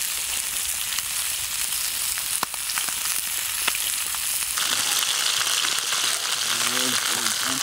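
Wild trout frying in a pan: a steady, loud sizzle and crackle of hot oil with sharp pops. A voice comes in near the end over the frying.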